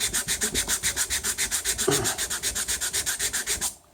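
Sanding rust off a Versa Vise by hand, with about twenty steady back-and-forth abrasive rubbing strokes in an even rhythm, close and fairly loud, ending abruptly.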